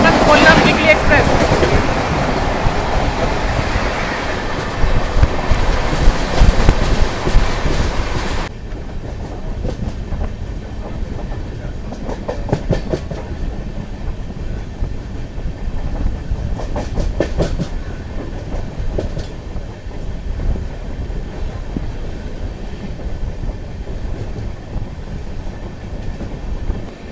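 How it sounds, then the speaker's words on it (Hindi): Visakhapatnam–Kollam Weekly Express passing at speed, a loud wheel roar with clickety-clack that drops sharply after about eight seconds into a quieter, steady rattle of coaches continuing by. "ये निकली आपकी विशाखापट्टनम कोल्लम वीकली एक्सप्रेस।"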